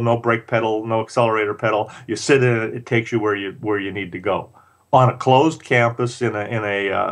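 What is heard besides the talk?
None of the usual background noises is heard.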